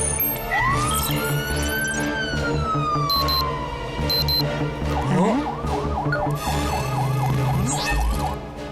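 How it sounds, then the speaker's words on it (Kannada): Cartoon emergency sirens switch between ambulance, fire engine and police van styles: a long rising-falling wail, then rapid repeating whoops, loud and close over a busy animated backdrop with no talking. "ತಮ್ಮ, ಇದು ಒಮ್ಮೆ ಆಂಬ್ಯುಲೆನ್ಸ್, ಒಮ್ಮೆ ಅಗ್ನಿಶಾಮಕ, ಒಮ್ಮೆ ಪೊಲೀಸ್ ವ್ಯಾನ್. ಇದು ಸೈರನ್ ಯಾಕೆ ಹೊಡಿತಾ ಇದೆ?"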